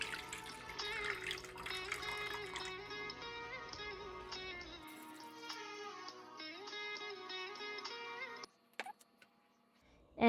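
Water pours steadily into a pot of rice for a Punjabi chana dal khichdi, a continuous close trickle with faint ticking, easing off near the end into quiet with a few small clinks.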